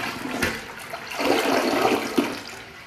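A Project Source Pro dual-flush toilet flushes on its 1.6 gallon button, a close, loud rushing gurgle with a sharp initial release, swirling for nearly three seconds.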